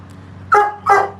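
A pet dog gives two loud, close barks about a third of a second apart over a steady low background hum.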